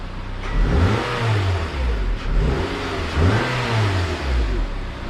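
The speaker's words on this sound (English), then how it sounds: "We'll do a first start and see if it makes that horrible noise." A car's engine starts and revs repeatedly right after a PLM downpipe install, rising and falling in several throttle blips, loud and close with a steady running roar between them and no talking.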